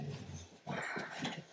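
Dogs whimper and let out low growls indoors, first a softer stretch and then louder bursts of whining and grumbling close by, with no talking.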